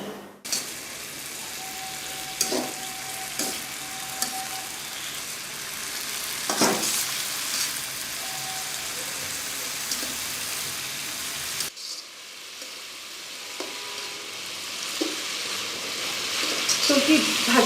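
Food fries in a pan in a home kitchen, a steady background sizzle with occasional clatters and a brief tone, with a quieter stretch near the end.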